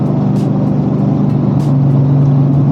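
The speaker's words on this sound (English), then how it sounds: "Sound of that turbo is incredible." A turbocharged Dodge Challenger SRT8 engine drones loudly and steadily up close, with a sustained low hum that rises slightly in pitch toward the end.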